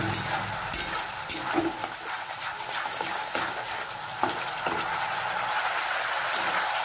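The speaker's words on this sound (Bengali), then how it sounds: "মশলাটা আমি কষাবো।" Spice paste for a katla fish curry fries and sizzles in a pan, a steady loud hiss with occasional stirring scrapes and small pops, close up and without talk.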